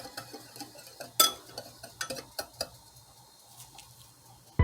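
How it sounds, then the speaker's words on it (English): Garlic powder, black pepper and smoked paprika whisked together in a bowl, giving a series of light clinking and scraping taps, irregular and fairly close, with no talk over them. "we're just going to whisk it together until it's well combined."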